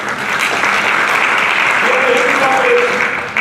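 Audience applause fills a Hindu economic conference hall, steady dense clapping throughout, close and loud, with a faint tonal murmur underneath toward the end.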